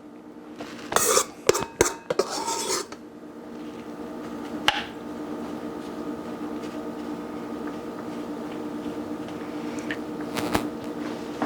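A spoon scoops bread batter in a mixing bowl, giving a quick cluster of clinks and scrapes early on, then a couple of isolated taps over a quiet room hum, with no one talking.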